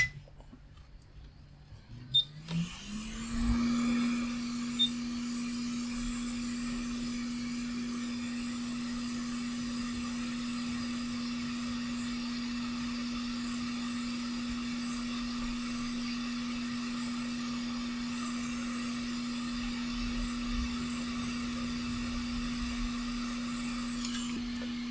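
A hot air rework tool blows onto a circuit board during a Class D active subwoofer repair, spinning up after a few clicks into a steady whirring hum with a constant tone that runs evenly and close for the rest of the scene, with no talking.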